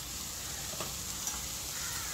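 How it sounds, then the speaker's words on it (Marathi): Dry fruits crackle and sizzle as they are stirred into frying carrot halwa, a steady soft hiss with faint scattered pops and stirring scrapes, close and continuous, no talking. "सुका मेवा छान असा चरचर आवाज येतो म्हणजे आपला हलवा रेडी आहे"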